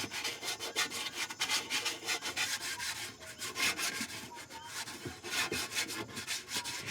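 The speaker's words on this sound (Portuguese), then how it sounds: "Ele lixa a peça." Hand sanding of a carved wooden saint figure, a faint continuous scratchy rubbing with irregular strokes against a quiet background hum.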